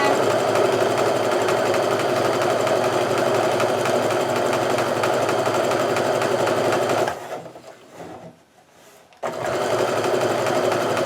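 A sewing machine stitching long strips of quilt fabric runs loud and steady up close, a rapid even whirring hum that drops away briefly near the end before it starts stitching again.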